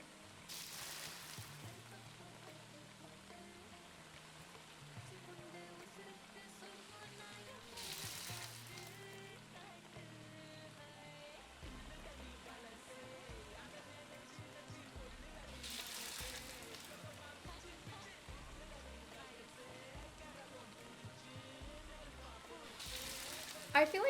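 Food searing in the cooking game Venba, a faint steady sizzle and crackle that runs on at low level, broken by brief louder bursts of hiss.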